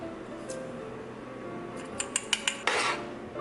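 A spoon stirs quinoa chili ingredients in a pot, a few close, sharp clinks and scrapes against the pot near the end, over quiet room tone.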